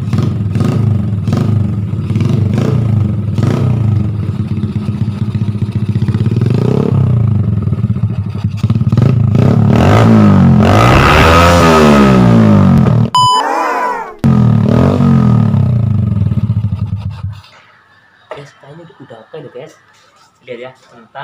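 Motorcycle fitted with an Akrapovic aftermarket exhaust, running loud and close with repeated revs that rise and fall, then cutting out abruptly before a quieter tail of background noise; a voice talks over parts of it.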